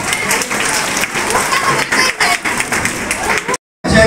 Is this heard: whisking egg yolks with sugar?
no